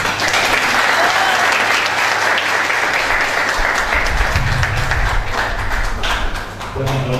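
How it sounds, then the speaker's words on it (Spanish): An audience at an academic presentation on higher education applauds to welcome a speaker. The clapping is thick and sustained, and a low rumble of movement and thuds joins in toward the end as it tapers off. "Lo recibimos con un caluroso aplauso"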